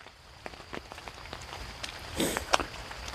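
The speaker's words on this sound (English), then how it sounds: "It's a little rainy." Light rain patters outdoors on a morning hike in Philadelphia. The drops tap faintly and irregularly on nearby surfaces, with a few slightly louder splashes toward the end.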